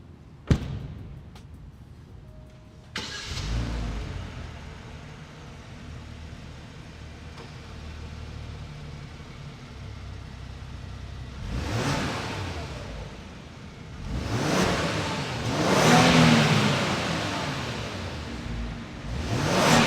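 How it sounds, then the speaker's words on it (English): A 2020 Genesis G90's twin-turbo V6 engine starts with a thump, then idles and revs up several times, with rising and falling bursts that grow louder toward the end. "let's go ahead and see how this twin turbo V6 sounds."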